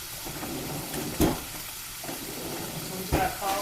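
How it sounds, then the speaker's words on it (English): Cauliflower frying in a pan alongside bacon and onions that have already cooked down, with a steady sizzle throughout and a couple of louder stirring or scraping bursts at close range. "So, we let the bacon and the onions cook down."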